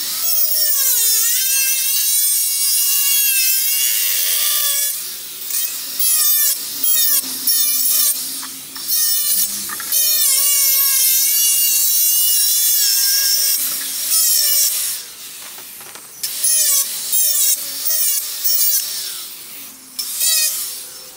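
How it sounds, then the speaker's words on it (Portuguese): A cut-off saw bites into a wooden skateboard deck in repeated loud passes, its high whine rising and dropping between cuts, with short pauses in between. "essas partes aqui eu acerto agora na policorte"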